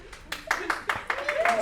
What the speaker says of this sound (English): Second round of applause